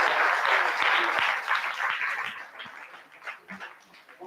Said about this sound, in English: Devotees, give a big applause to the priest.